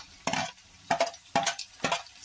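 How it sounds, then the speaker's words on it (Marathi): A utensil stirs tomatoes into sautéed onion and green chili in a pan, producing four distinct scraping strokes at a steady rhythm, close and moderately loud, with only a faint sizzle underneath. "आता कांदा आणि मिरची परतून झाली तर टमाटर टाकूया।"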